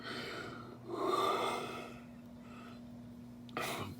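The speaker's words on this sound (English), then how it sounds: "No, excuse me, I'm yawning." A person yawns, a drawn-out breathy inhale and voiced exhale rising and falling over a couple of seconds, close and fairly quiet, followed by a short breathy sniff at the end.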